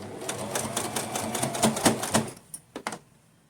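A sewing machine runs a firm stitch on winter fur-trimmed clothing, a rapid mechanical patter that comes in short bursts and stops, followed by a few sharp clicks near the end.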